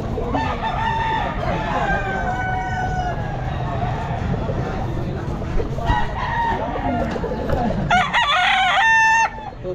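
Roosters crow repeatedly at a Baliwag pet market amid constant clucking from caged chickens, with several long calls overlapping a dense, busy background of birds and muffled voices.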